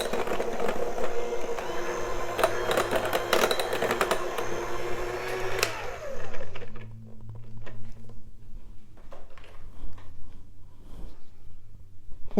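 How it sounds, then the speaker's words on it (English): Cool Whip is mixed with cream cheese, sugar, milk and vanilla for a Blueberry Yum Yum dessert, making a dense, busy rattling clatter for about six seconds before it drops to softer, sparse scraping and taps. "So I'm just mixing the Cool Whip with the cream cheese, the sugar, the milk, and the vanilla."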